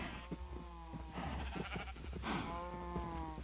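Sheep in the Minecraft video game bleat repeatedly in overlapping calls, fairly close and steady, with a low background hum and no talking.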